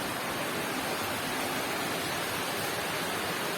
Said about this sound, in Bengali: বৃষ্টিটা ঘুরে গেছে